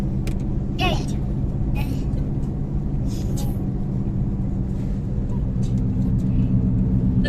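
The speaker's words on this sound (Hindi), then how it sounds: "इधर अपनी गाड़ी चल रही है।" A car drives along with a steady low engine rumble and road noise, while people talk over it close by.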